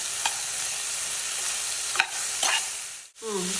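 Chopped beans and vegetables stir-fried in a pan for fried rice, a steady close sizzle broken by a few sharp spatula scrapes, then a brief gap before a different clattering tone at the very end.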